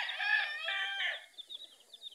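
A laying hen on a small farm gives a loud, drawn-out harmonic call, then a run of short, softer clucks close by, with no talking.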